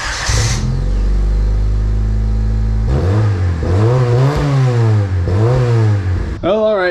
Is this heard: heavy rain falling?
no